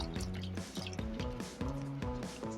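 Cooked spinach and green beans poured out of a pot while making a meatless pumpkin vegetable soup, giving a steady wet dripping and squishing sound, close and continuous, with a background tone underneath and no talking.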